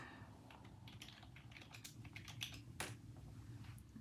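Computer keyboard typing, a steady run of quick, light keystrokes with a few louder taps, fairly close and alone with faint room noise underneath.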